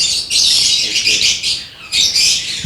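Albino red-eyed budgies, a pair in a breeding box, chirp and chatter continuously in close, bright bursts with brief dips, no speech.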